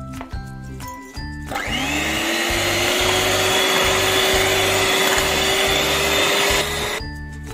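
An electric hand mixer beats sugar for vanilla tutti frutti cupcake batter, a loud, steady motor whine that spins up, holds for several seconds, then cuts off, with no voices.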